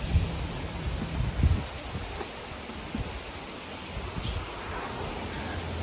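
Steady outdoor wind sweeps past with a broad rushing hiss and low buffeting gusts on the microphone. The wind stays constant and moderately loud near a backyard play set area, with no voices.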